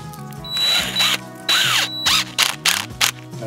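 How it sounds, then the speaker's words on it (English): A power drill drives screws directly into a living tree, with a loud whirring motor rising and falling in short bursts and quick pulses near the end. "you just screw these directly into the tree"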